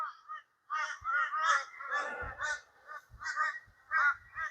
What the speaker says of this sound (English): A lot of crows though, so it can get a bit noisy by the sounds of that.